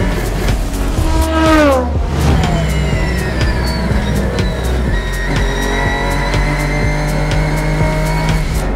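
Race car at Le Mans closing on a Porsche, engine roaring loud and near with rising revs and gear shifts, tires squealing under hard cornering.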